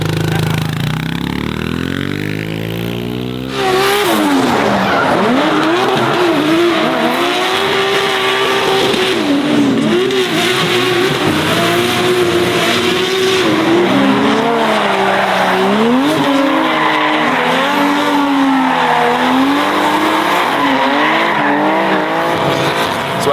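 Drift cars run laps in a paddock at a private compound, with loud, sustained engine revving and tire squeal that rise and fall continuously, close by and dominating throughout.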